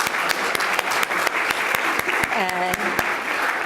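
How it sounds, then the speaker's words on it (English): Audience applause for the panelists at a Q&A on schools and school resource officers: steady, full clapping throughout, with a speaker's voice briefly talking over it. "give a round of applause to our panelists"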